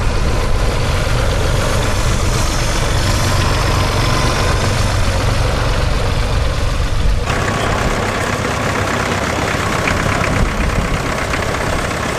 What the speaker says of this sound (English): The International Titan, sold by a different dealer network to the Mogul but manufactured by the same company. And the International 816 Junior.